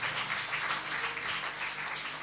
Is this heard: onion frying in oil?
no